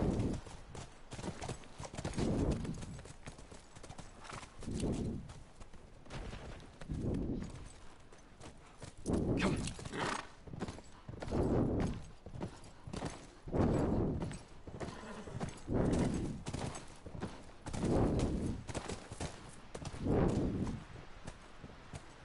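Steady clip-clop of horse hooves walking at an even pace in the video game The Last of Us, rhythmic thuds repeating throughout, fairly close and clear with no talking.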